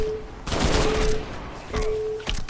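Gunfire from a weapon in the video game Crackdown, two loud bursts of rapid shots separated by a short pause, with a steady electronic tone beneath.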